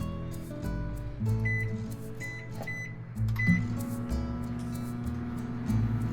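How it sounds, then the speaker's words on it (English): A microwave oven softens butter for chewy chocolate chip cookies: a steady close-up humming drone runs throughout, with a few short high beeps scattered across it. "we're going to microwave it in 15-second bursts until it's softened, not melted"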